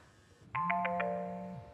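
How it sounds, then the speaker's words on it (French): Mobile phone ringtone in a Black Mirror episode (USS Callister: Into Infinity): a loud, steady electronic ring starts abruptly with four quick chiming pulses over a sustained tone, heard alone with no talk. "Tulaska appelle son portable!"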